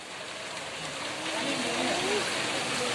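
Steady rain pours at a durian farm in Bogor, a constant close wash of falling drops with faint voices underneath.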